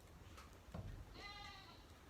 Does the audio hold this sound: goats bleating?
yes